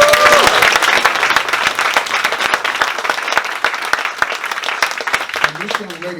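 Applause from a jazz club audience at a quintet show at Blue Llama Jazz Club, a dense, steady wash of clapping that fills the room and carries on for several seconds before fading as a voice begins.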